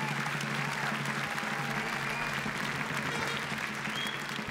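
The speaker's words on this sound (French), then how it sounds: "So give yourself a round of applause," An audience at a world pastry championship awards ceremony applauds in a continuous, even wash of clapping with a low murmur of crowd noise underneath, holding steady throughout.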